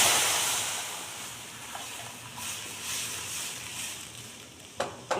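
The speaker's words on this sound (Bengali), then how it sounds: "এবার কড়াইতে দুধটা ঢেলে দিচ্ছি।" Milk poured into a hot kadai of fried thin vermicelli for simui payesh gives a hissing sizzle that starts loud and settles into a softer bubbling, with a couple of sharp clinks near the end.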